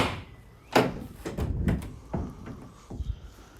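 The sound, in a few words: Ford Transit van rear doors locking into place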